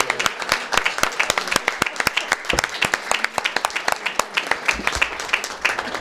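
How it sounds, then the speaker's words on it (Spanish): An audience at a religious association event gives a burst of sustained, dense clapping that fills the whole stretch, close and lively without any talk over it. "le vamos a dar un aplauso"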